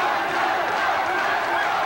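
A standing crowd at an Oriental Rules fight in Paris cheers and roars steadily, a dense wash of voices with no breaks, under commentary.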